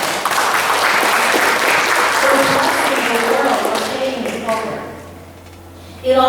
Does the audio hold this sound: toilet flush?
no